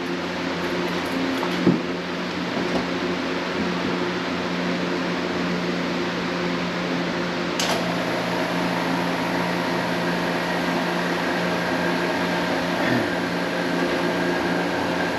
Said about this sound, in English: I'm going to put that in my vacuum pot for a minute or so, pull all the air bubbles out of there